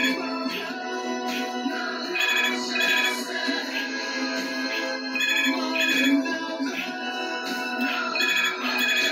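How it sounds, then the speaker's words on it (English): A phone rings with a repeating electronic ringtone melody, bursts recurring at regular intervals for several seconds, clear and fairly close. "I can't answer the phone at the moment."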